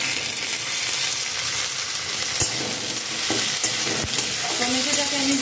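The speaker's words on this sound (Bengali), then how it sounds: "টমেটোটাকে আমি ভালো করে আগে ভেজে নেব পেঁয়াজের সাথে।" Tomato and onion fry together in a pan, giving a loud, close sizzle with stirring scrapes and a few sharp clinks of a utensil, steady throughout without talk.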